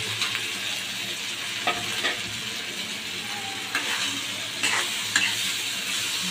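Chicken pieces stirred in a frying pan for a Bangladeshi country-chicken curry, a steady close sizzle with occasional scrapes and clinks of the spatula against the pan, no talking.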